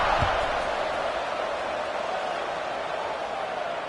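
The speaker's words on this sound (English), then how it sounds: "this crowd is buzzing after that last score" A football stadium crowd at an LSU at Colorado game buzzes after a score. The steady, diffuse roar fills the whole stretch without a break.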